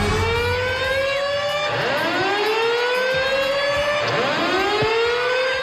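A loud wailing siren sweeps up and down in repeated rising and falling cycles, sounding continuously inside the Veterans Memorial Arena during a country music concert.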